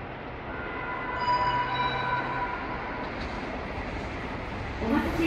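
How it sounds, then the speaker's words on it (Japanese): A train rumbles through a station on track 3 with a steady roar and faint metallic squeal, moderately distant, with a brief rattle near the end. "3番線を列車が通過いたします。"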